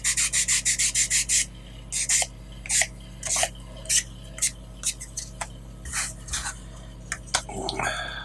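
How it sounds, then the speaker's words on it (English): Quick, scratchy strokes of a sanding stick rub back and forth on the edge of a scale model, first in a rapid even series, then in irregular separate passes, close and fairly loud. "Get a sanding stick on the edge of that"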